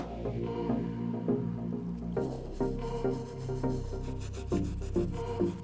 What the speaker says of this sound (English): Now we're gonna tackle the uppers using the Soft Bristle Brush and try to break down as much of this as possible.